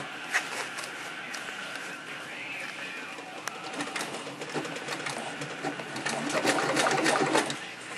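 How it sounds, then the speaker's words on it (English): A sewing machine runs steadily while stitching gores and gussets, its motor whirring nearby in a continuous drone with slight shifts in speed, growing a little louder toward the end. "I'm just sewing along this now."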